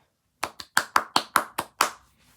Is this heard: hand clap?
yes